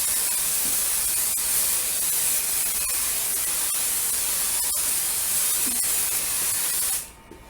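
Aerosol can of 505 basting spray adhesive sprayed onto quilt batting and backing, a steady close broadband hiss running unbroken for about seven seconds before cutting off abruptly, with faint ticks of handling underneath.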